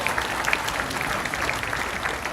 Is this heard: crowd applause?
yes